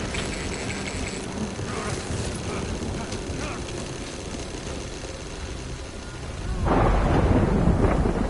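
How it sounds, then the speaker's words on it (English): Rain and thunder in the video game Death Stranding: a steady loud downpour hiss, swelling into a deeper rumbling roar near the end. "Good thing it was raining."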